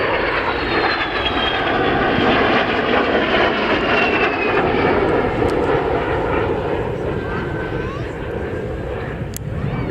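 A loud de Havilland Vampire jet fighter roars overhead at an airshow, a sustained powerful engine rush whose pitch shifts as it passes, easing slightly toward the end.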